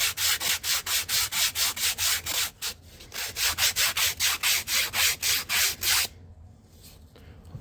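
Wood worked on a Rabid Models edge sander, a rapid back-and-forth rasping in even strokes, loud and close, pausing briefly midway, then ending into quiet.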